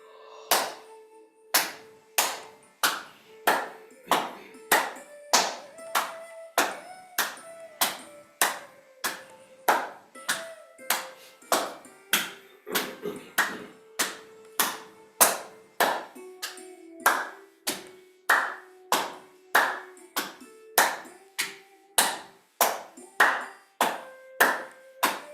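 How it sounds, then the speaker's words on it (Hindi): Hands clap in a steady, even rhythm during a fitness exercise, the claps alternating in front of and behind the body, about one to two per second, close and crisp, with a faint tone sustained underneath. "आगे पीछे ताली बजाएं।"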